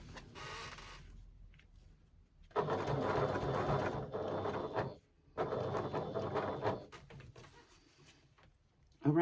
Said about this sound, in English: I'm just going to sew baste using an 1/8 of an inch seam allowance.